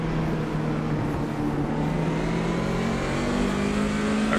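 A BMW 2002 Turbo racing car in Automobilista 2 runs with a steady, loud, continuous engine drone held at high revs, with a slight rise in pitch, close and alone with no talk.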